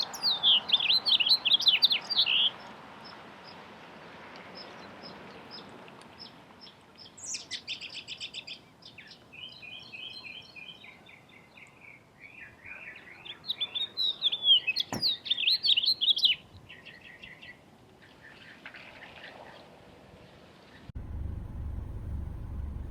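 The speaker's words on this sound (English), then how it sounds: "male house finch was also perched on the purple martin houses and singing his heart out." A male house finch sings a bright, warbling song in repeated bursts from a perch on purple martin houses at Plum Island in spring, with other bird calls between phrases and a low engine rumble at the end.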